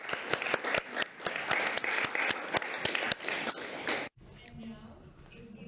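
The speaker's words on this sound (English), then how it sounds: "So a round of applause for our hidden men and women in the back." Audience at a human rights moot court final applauds interpreters, steady dense clapping with sharp individual claps standing out, cutting off abruptly, followed by quiet room tone with faint voices.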